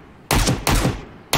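Three loud, sharp bursts of gunfire from the survival shooter game Road to Vostok come in quick succession, each cutting in abruptly over a quiet background.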